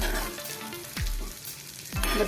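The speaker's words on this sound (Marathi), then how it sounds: "मधून हलवत राहा आपण ही डाळ हलवत राहूया" Moong dal being dry-roasted in a pan over a low flame while a spoon stirs it, giving a steady close scraping hiss with two sharp spoon scrapes against the pan, no voices.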